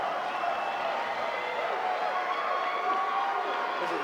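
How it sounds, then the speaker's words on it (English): Crowd at an amateur fight event, the Butte Brawl, cheering and hollering in a busy, moderately distant roar of mixed voices that holds steady throughout. "And the crowd is loving it"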